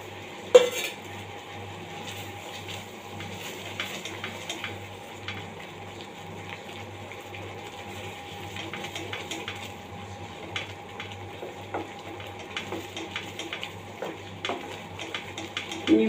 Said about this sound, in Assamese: মছলাখিনি আমাৰ ভুনা হৈছে।